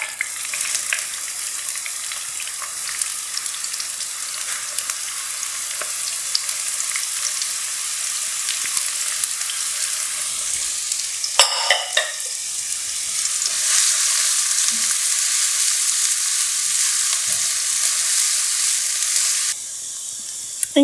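Onion browning in a hot pan for a shimeji mushroom risotto gives a steady, loud sizzle and hiss throughout. A short burst of stirring breaks it up midway, and then the frying continues strongly.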